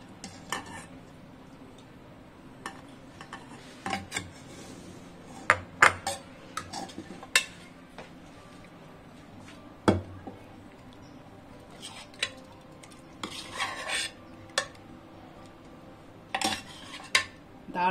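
Cooked mutton korma is spooned into a bowl, with scattered clinks and scrapes of a metal utensil against cookware. The sounds come close and sharp in irregular bursts, and no one speaks.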